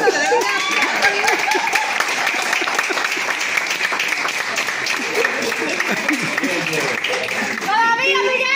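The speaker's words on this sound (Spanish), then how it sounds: "¡Den un aplauso! ¡Den un aplauso!" A crowd at a staged wedding ceremony applauds continuously, with clapping and cheering mixed with children's and adults' voices throughout, ending with clearer talk.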